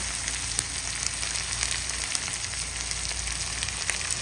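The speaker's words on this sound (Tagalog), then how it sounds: "pinigisa po natin" Garlic, onion and ginger sauté with fried chicken pieces in hot oil, giving a dense, continuous close sizzle with small crackling pops and no talking.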